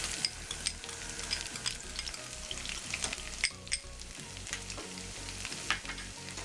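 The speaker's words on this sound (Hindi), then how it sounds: "ऑयल हमारा गर्म हो चुका है," Garlic fries in a spoonful or so of hot oil, a steady, crackly sizzle close up with small scattered pops and light stirring. No one speaks.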